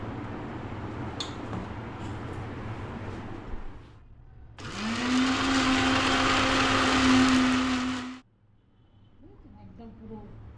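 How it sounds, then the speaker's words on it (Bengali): An electric mixer grinder whirs loudly as it blends chopped watermelon into a paste, a steady motor roar lasting about four seconds between quieter stretches of kitchen handling before and after. "এবার মিক্সিতে দিয়ে এটা পেস্ট করব।"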